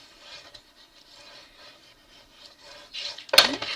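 Paper is burnished down on a scrapbook page, making a soft, low rubbing scrape in short repeated strokes that ends with a sharper, louder swipe.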